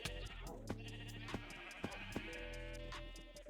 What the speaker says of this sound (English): I have a lot of sheep here.